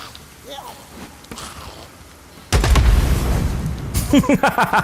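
An explosion in the video game Days Gone erupts suddenly as a loud, rumbling boom that keeps roaring. A player speaks over the game sounds.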